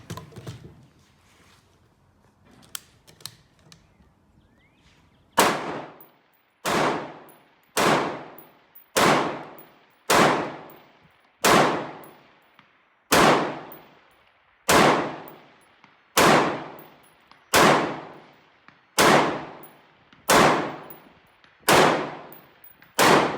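A rifle fitted with an Elcan M145 optic fires 30 rounds at steel targets, each shot a sharp clang ringing out in a steady, evenly spaced string after a few seconds of quiet handling noise.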